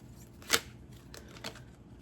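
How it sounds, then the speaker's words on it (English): Two crisp snaps of stiff tarot cards being shuffled, one sharp flick then a softer riffle, quiet otherwise. "the cards are a bit stiff and unforgiving. And very difficult for me to shuffle"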